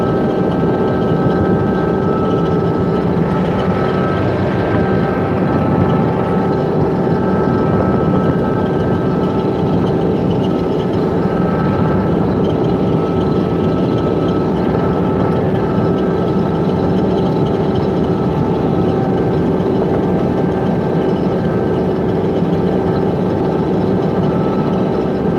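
A combine harvester with about 3,688 engine hours runs at a steady roar during a barley harvest, its loud, continuous engine drone unbroken for the whole stretch, with no talking.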